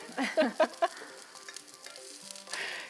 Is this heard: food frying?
yes